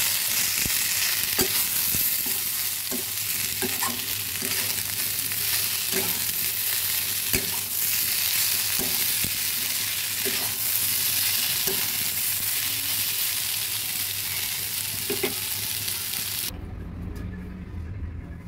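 A pumpkin and yardlong bean stir-fry sizzles steadily in a pan while a utensil scrapes and stirs in regular strokes, and the sizzle drops off abruptly near the end.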